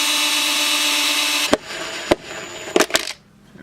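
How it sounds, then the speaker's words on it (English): A small drill with a 1/16 inch bit whirs steadily for about a second and a half during guitar kit assembly, then stops, followed by a few sharp clicks and taps. "I'm going to take my 1/16 drill bit"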